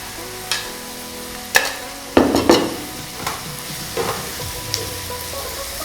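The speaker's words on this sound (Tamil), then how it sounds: "நல்லா ஒரு டூ மினிட்ஸ் இதை வதக்கிட்டு நம்ம ஏற்கனவே வதக்கி வச்சிருந்த சிக்கனை இதில் ஆட் பண்ணணும்" Chicken being sautéed in a pan for a Malaysian chicken curry, with a few loud spoon clanks and scrapes against the pan over a soft, continuous sizzle.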